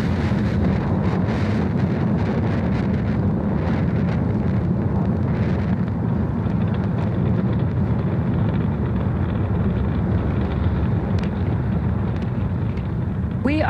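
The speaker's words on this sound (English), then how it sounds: "We are 30 seconds into flight under the power of 5 million pounds of thrust." The deep, continuous roar of a SpaceX Falcon Heavy rocket climbing after liftoff holds steady and loud throughout, broad and rumbling like heavy wind buffeting the microphone, with no clear voices.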